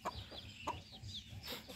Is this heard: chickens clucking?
yes